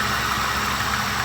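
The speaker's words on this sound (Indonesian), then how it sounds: "Nah itu dari kompresor teman-teman." A worn AC compressor on a Toyota Wish runs roughly under a steady engine idle, a loud, close, continuous mechanical drone with a faint uneven knock.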